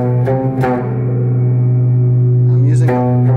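A sustained tonal note runs through a spring reverb unit, ringing on steadily with short transient bursts near the start and end that splash and decay with a metallic wash.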